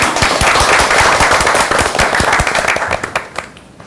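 A small group claps at a televised youth arts discussion with the prime minister, distinct close individual hand claps in a quick uneven patter that thin out and fade toward the end.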